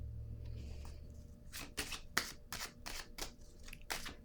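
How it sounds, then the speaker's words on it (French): Tarot cards handled and laid down during a reading, making a quiet series of crisp, brushing card sounds in a close, otherwise silent room. "Je vais déposer une autre carte."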